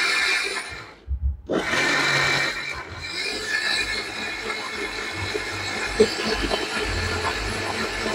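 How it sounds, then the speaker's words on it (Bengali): A Miyako 750-watt blender runs after a brief pause, its motor giving a loud, steady, dense whir that holds without a break. "এখন যে ব্লেন্ডারটা আমাদেরকে দেখাচ্ছেন ভাই, এটা হচ্ছে কত ওয়াটের ব্লেন্ডার? এটা হচ্ছে মাত্র 750 ওয়াট।"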